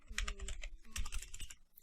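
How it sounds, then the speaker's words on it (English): Quiet, close keystrokes on a computer keyboard come in two quick bursts of rapid typing, with a brief pause between them. "Let's just type in codeblocks."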